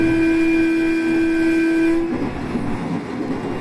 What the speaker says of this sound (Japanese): 第3種踏切があるので警笛を鳴らしたようです。